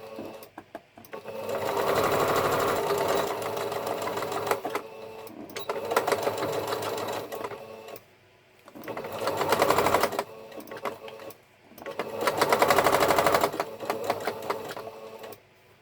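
A sewing machine stitching the hem of a pair of trousers, running in four loud, close bursts of rapid whirring and clatter with short pauses between them.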